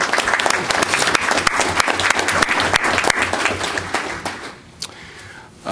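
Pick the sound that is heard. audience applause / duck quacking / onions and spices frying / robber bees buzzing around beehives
audience applause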